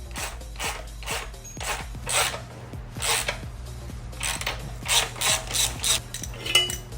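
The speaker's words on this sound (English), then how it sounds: "with a 80 millimeter socket and a wrench" Ratchet socket wrench with an 80 millimeter socket tightening a Vespa exhaust clamp, a close series of rhythmic clicking ratchet strokes in short repeated bursts.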